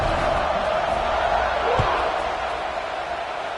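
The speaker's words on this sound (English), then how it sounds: "this crowd is buzzing after that last score" A stadium crowd in the College Football 26 video game keeps up a steady, dense buzz of murmuring voices throughout. One brief low thump breaks through near the middle.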